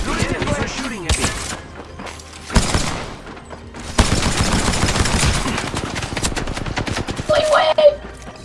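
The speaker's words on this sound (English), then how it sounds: "The enemies are shooting at me." Enemy gunfire in a video game sounds in rapid bursts and sustained automatic volleys, loud and close, with a player talking over it.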